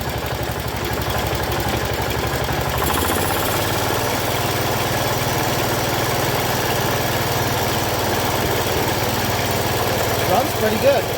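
Small single-cylinder engine of a 1985 John Deere 212 lawn tractor running steadily up close, a loud continuous drone that shifts pitch slightly early on, with background noise throughout.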